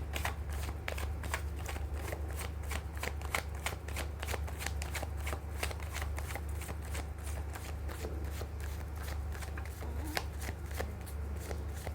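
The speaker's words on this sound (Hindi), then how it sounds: "मैं कर लेती हूँ कार्ड की शफलिंग।" Tarot cards are shuffled by hand in a rapid, steady stream of crisp riffling flicks that runs for the whole stretch, close and alone with no talking over it.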